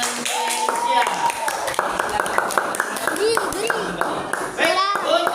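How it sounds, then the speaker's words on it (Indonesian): Children clapping in a classroom after a group shows crafts made from used plastic bottles, brisk scattered hand claps over several seconds with children's voices and chatter mixed in. "beri tepuk tangan buat Hanara dan Kesia."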